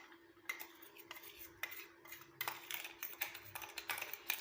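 Ground spice powder of black cumin and mustard seeds, just milled, is scraped and tapped from a dry grinder jar onto a plate, giving a string of close, light clinks and scrapes with no talking.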